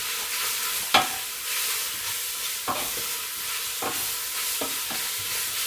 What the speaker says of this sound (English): starting to brown and cook this bacon